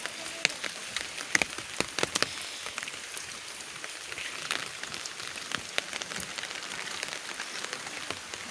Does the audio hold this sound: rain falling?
yes